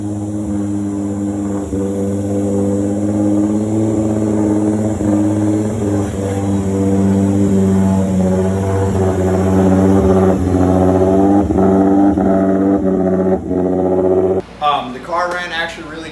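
Ford Mustang with a 3.7 V6 running under load while driving, a loud steady droning engine note with harmonics slowly climbing and holding near 2,500 RPM, cut off by a brief burst of talk at the end.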